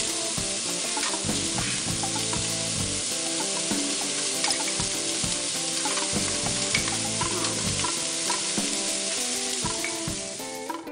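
Tamarind juice goes into a hot frying pan for cauliflower pachadi, setting off a loud, steady sizzle that holds throughout with faint stirring scrapes, then eases slightly at the end.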